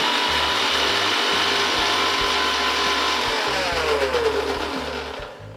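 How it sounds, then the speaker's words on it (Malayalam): Mixer grinder jar whirring loudly and steadily as it blends garlic mayonnaise with sunflower oil, a continuous high motor whine with the churning load, tailing off slightly at the end. "ഇനി മിക്സി മൂടി ഇതൊന്ന് നന്നായിട്ട് അടിച്ചെടുക്കണം."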